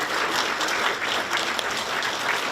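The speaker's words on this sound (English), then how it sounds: "if everybody can give an amazing set of applause for Katie Featherston, Sprague Grayden." An audience applauds at a Paranormal Activity convention panel at Sinister Creature Con, producing steady, dense clapping throughout with no voices over it.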